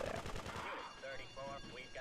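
A short, fairly faint burst of rapid gunfire comes from the video game Grand Theft Auto 2, followed by quieter game noise.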